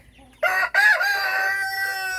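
A rooster crows once, loud and close, in a backyard flock of chickens, with a short break in the call and soft clucking from the others behind it.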